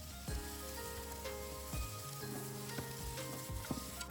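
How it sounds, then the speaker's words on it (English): Cut onion and carrots frying in a pan, a soft steady sizzle broken by a few sharp scrapes and clicks of stirring. "And then fry the cut onion and carrots."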